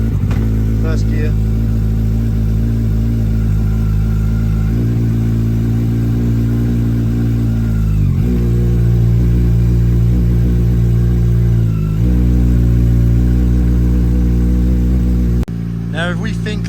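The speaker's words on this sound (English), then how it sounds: "This is the part where we annoy the neighbours." Kawasaki motorcycle engine running in first gear with the clutch held in, a steady loud near drone with throttle blips and dips around the middle, a voice talking over it.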